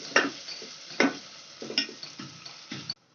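Capsicum sabzi being stirred and sautéed in a pan: a spoon gives several distinct scraping strokes against the metal, spaced about half a second apart, over a light sizzle.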